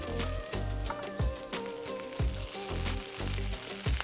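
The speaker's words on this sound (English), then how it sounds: "we're gonna get these sauteing on a medium-high heat. Just a little bit of olive oil. And get all of those vegetables rolling." Vegetables sauté in a little olive oil on a Steelmade flat top over medium-high heat, giving a loud, steady sizzle with low thumps and stirring knocks recurring about every half second.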